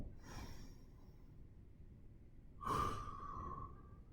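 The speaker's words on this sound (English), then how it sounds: "I'm going to take one more deep breath here before we get going." A deep breath taken before a plank exercise in a fitness workout, heard as a faint breathy inhale early on, then a louder exhale with a tonal edge about midway, all close and without talk.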